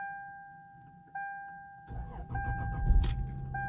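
A 2002 Lexus GS300 engine cranks and catches, turning over into a rough idle close by after a quiet stretch with a steady electronic chime, with keys jangling and clunks around it.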